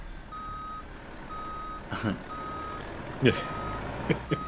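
Truck reversing beeps from the American Truck Simulator game, a steady chain of short evenly spaced tones repeating about once a second at moderate level, with a few brief louder knocks and clatters breaking in.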